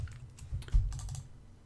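Short burst of typing on a computer keyboard, a few quick, close key clicks and taps over about two seconds, then quiet.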